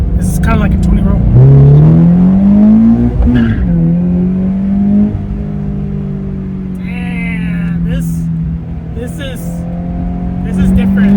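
A Scion FR-S fitted with an Injen cold air intake pulls from a roll, its engine note rising and falling under close, ongoing talk from inside the cabin.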